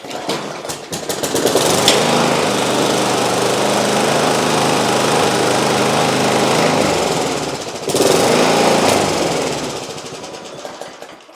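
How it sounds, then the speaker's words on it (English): A Briggs & Stratton four-stroke engine on a Masport lawnmower runs steadily at a loud, rough idle, its sputtering drone holding for several seconds with a brief surge near the end. "we have got a running Briggs Stratton engine"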